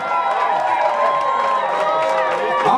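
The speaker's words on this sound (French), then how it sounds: "Je vous demande de l'applaudir très fort" Concert crowd at a live show in Houston cheering and applauding for the evening's Miss, a dense, loud roar of voices and whoops with scattered clapping throughout.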